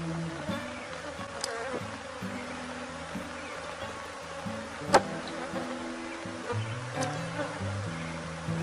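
Honey bees buzz steadily around an opened beehive, a dense close drone with a few sharp clicks or knocks from handling, no talk.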